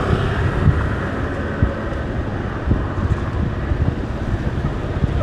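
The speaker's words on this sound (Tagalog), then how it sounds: "Even dito sobrang lakas ng hangin" Steady broadband wind rush over a motorcycle rider's mic on a night ride out from Mall of Asia, loud and constant with small gust bumps, no voices.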